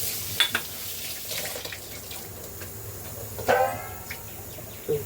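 Fresh vam (eel) fish pieces are rinsed under running tap water in a home kitchen: a soft, steady trickle with occasional splashes and knocks, fairly quiet and with no voices.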